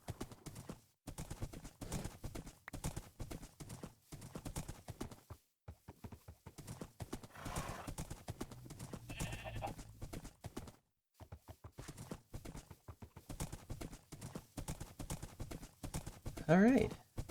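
Rhythmic horse hoofbeats clip-clop steadily in Minecraft, with a short whinny near the end, under a continuous talking voice.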